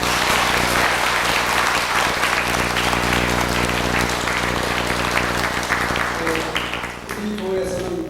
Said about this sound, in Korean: 다시 한번 감사의 박수를 드립니다